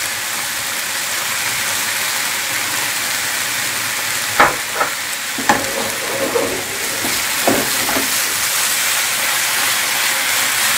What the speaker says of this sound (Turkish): Bunları böyle 10 dakika kadar kızartacağım.